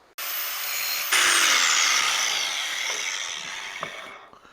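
A handheld grinder grinds a vintage Colombian bench vise No. 143 up close and loud, its steady whine stepping up in pitch after a second and then slowly sagging before it spins down.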